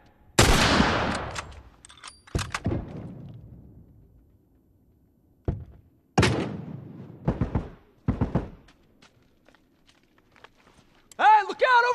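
Rifle gunfire in the video game The Last of Us, in a co-op Factions match in the Checkpoint map, comes as several separate sharp bursts with gaps between them, and a voice sounds briefly near the end.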